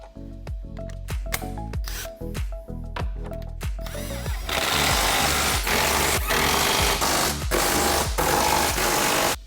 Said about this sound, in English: After you have them snugged up with the impact,